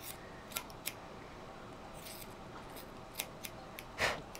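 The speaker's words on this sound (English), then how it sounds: "you just lay your scissor on the top of the skull and trim down to" Small scissors trim the hair between a schnauzer's eyes, making a few quiet, crisp snips spaced irregularly against a soft background hiss.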